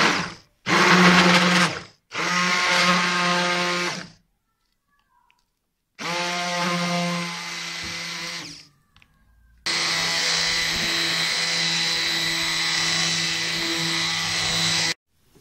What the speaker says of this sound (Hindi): हमारे पास हैंड ब्लेंडर है, इसके साथ जो है हम इसको जो है वो इसको मिक्स करेंगे।